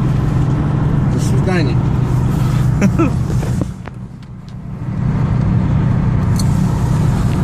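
A car drives along a road with a constant low engine drone and tire rumble, briefly easing off midway before resuming, while people talk over it inside the cabin.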